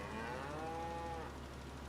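A cow moos in Farming Simulator 22, a single long low call with a steady droning tone held for nearly two seconds, close and fairly loud over a constant low ambient hum.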